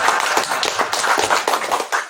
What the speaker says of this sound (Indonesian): Tepuk tangan buat Pak Raja.